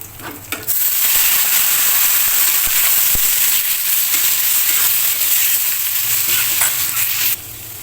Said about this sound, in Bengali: এখন আলু আর পেঁপেগুলো দিয়ে দিচ্ছি